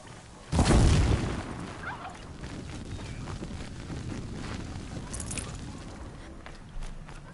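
A deep, muffled boom rolls in from a distance in the Horizon Zero Dawn game world, then fades into a low rumbling wind-like wash with faint thuds.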